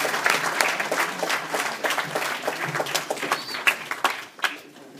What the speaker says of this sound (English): An applause for Varun.